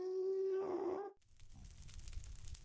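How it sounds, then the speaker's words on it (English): A dog vocalizes nearby indoors with a loud, sustained, wavering howl-like cry for about a second, then stops abruptly, leaving low rumbling background noise. "Sorry, the dog is barking."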